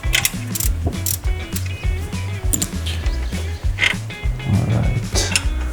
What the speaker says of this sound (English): I have to loosen that bolt as well